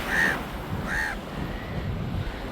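Two loud crow caws in quick succession, harsh and nasal, followed by a quieter third call against a steady windy outdoor background in Lakshadweep.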